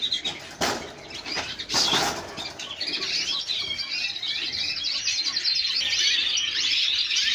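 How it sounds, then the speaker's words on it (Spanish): Many aviary birds chirp and twitter in a dense, steady chorus, with a few bursts of wing flapping near the start, mid-distance and continuous throughout. "Más pájaros por aquí."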